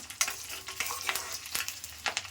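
Bottle gourd curry frying in foaming sesame oil, a close, busy sizzle broken by repeated sharp clinks and scrapes of a ladle stirring in the pan, with no voices.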